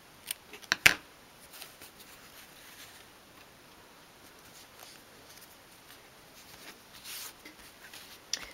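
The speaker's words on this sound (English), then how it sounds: "And then you can snip that off." Scissors snip yarn from a tiny 1/12th scale dolls house door mat, giving a few sharp close clicks near the start and another small snip toward the end, with quiet rustling in between and no speech.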